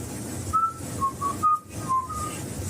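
Unexplained whistling during a paranormal investigation at the Alley Theater: several short, thin tonal whistle notes come and go over about three seconds against a quiet, hissy room background with no talk.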